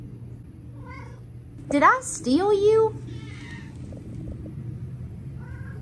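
A neutered male cat gives two close, fairly loud meows in drawn-out, bending calls. A person speaks softly around them over a steady low background hum.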